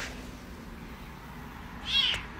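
A cat meows once, a short mid-pitched cry rising out of a steady low background hum.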